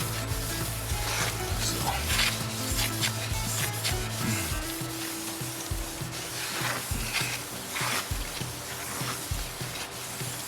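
A clean rag wipes down manual transmission parts during an engine swap, giving a close, continuous scrubbing and rubbing sound with a steady rhythm throughout.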